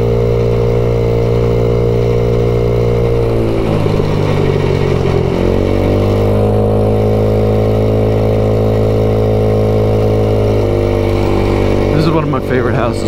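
A matte black 2021 MADDOG Generation V 150cc scooter cruising at about 40 with a steady, droning engine hum and a slight pitch dip midway, under continuous talk from the rider.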